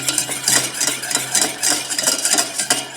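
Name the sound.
stirring simmering spiced cream in a pot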